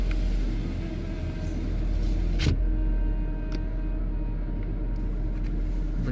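A car engine rumbles steadily nearby, a low continuous drone with a couple of brief clunks, as the vehicle pulls away from a village home.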